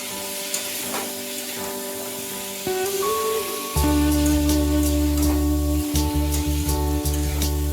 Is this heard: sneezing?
no